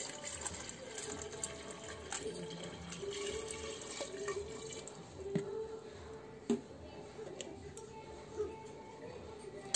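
Stored tank water is poured slowly into a betta fish bowl with decorations, giving a soft, steady trickle and gurgle with a few small splashes, quiet and close, with no talking over it.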